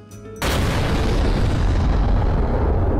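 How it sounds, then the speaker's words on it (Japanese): A sudden loud explosion erupts in the video game Mugen Souls after a brief quieter moment, becoming a sustained, heavy roaring blast of noise that fills the rest of the clip. "爆発音だ。"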